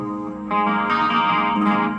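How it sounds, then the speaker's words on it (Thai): Clean electric guitar played through a Korg AX3000G multi-effect with chorus on, sustained shimmering notes ringing out alone, a new chord struck about halfway and swelling brighter. "ตอนนี้เราอยู่เสียงคีนที่มีคอรัส"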